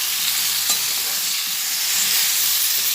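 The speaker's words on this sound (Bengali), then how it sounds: "হলুদার নুনটা পুরো পটলের মধ্যে লাগিয়ে দিয়ে পটলটাকে আমি ভেজে নিচ্ছি" Pointed gourd (potol) frying in a pan with turmeric and salt, a continuous close hiss of sizzling oil with a single light utensil knock near the start.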